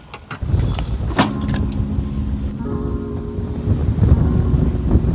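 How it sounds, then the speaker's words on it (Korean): Strong wind at a West Sea fishing spot on the coast, buffeting the microphone in loud, rough gusts that rise after a quieter start and continue under faint mechanical clinks and tones. "바람 터졌습니다"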